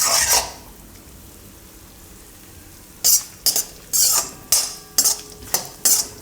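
Kheer ingredients roast in desi ghee in a pan while being stirred. After a quiet stretch, a spoon scrapes the pan in about eight distinct strokes over a soft sizzle.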